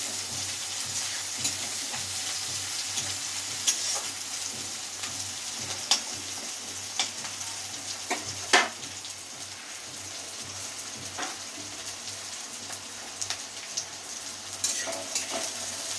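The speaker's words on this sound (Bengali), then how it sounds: "পেঁয়াজটা একটু ভাজা ভাজা হয়ে গেলে আমি এটা এর সাথে মিক্স করে দেবো" Onions frying in mustard oil for chicken kosha, a steady sizzling crackle with scattered sharper pops and spits, close and fairly quiet throughout with no talking.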